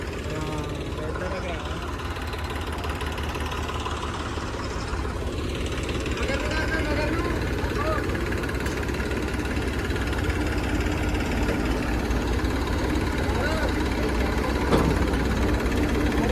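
Tractors brought in to haul sand out of farm fields idle with a steady, throbbing engine drone that holds throughout, while people talk nearby.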